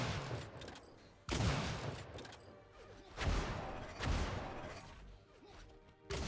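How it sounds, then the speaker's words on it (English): Stinger alt fire in Unreal Tournament, with several heavy, crashing shot bursts a second or so apart, each one loud and close with a decaying rattle, heard during a duel match. "And there's the Stinger alt fire."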